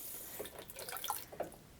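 Water runs from the spout of a Rockwell Gallonzo stacking water storage tank, a soft, steady trickle and splash close by with a few small drips, no voices.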